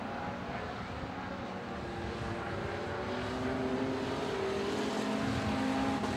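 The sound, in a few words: race cars on track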